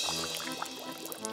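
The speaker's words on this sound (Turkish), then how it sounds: "Ama o içmek yerine kafasından aşağı dökecek." A drink poured over someone's head during a food challenge, heard as a brief, close, continuous splashing pour with bubbly trickling, and no talk during the pour.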